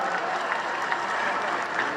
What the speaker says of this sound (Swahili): Tumpe makofi Jump Master